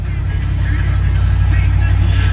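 A 1984 Dodge Ram engine runs steadily at a close, loud idle, with a deep, even rumble and throb that holds for the whole stretch, and no voices over it.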